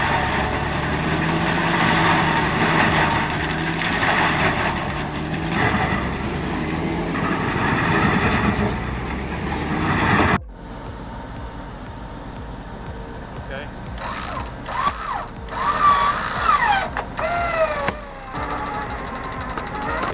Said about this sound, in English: That powerful grinder shows absolutely no mercy to that old, stubborn pine stump.